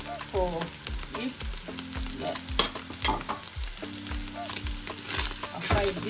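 Onion fries in a pan with dried fish, crackling and sizzling loudly and close, with rhythmic scraping and tapping of a spatula as it is stirred; no speech.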